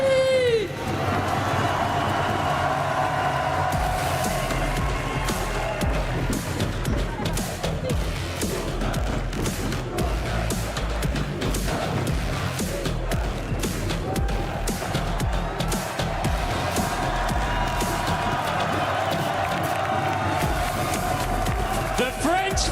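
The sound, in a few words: crowd cheering at a Valorant esports match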